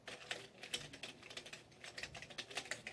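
Typing on a gaming keyboard, a quick irregular run of light, crisp key clicks heard close up and fairly quiet, continuing throughout without any talking.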